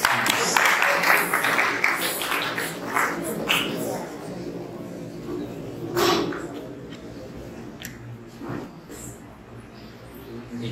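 An audience at a health seminar in a regional seminary gives a round of applause. The dense clapping is loudest at the start and fades over a few seconds as voices take over.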